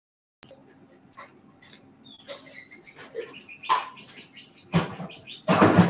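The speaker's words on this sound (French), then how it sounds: "C'est le retour des oiseaux." Birds chirp in short, scattered calls, starting sparse and faint and growing louder and busier toward the end.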